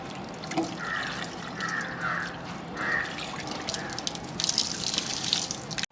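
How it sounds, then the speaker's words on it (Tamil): Cassava tubers being washed by hand in water give soft splashing and sloshing, fairly quiet and close, with intermittent bird calls in the background and a louder burst of water toward the end. "இந்த மரவள்ளிக்கிழங்கை நன்றாக கழுவுவோம்."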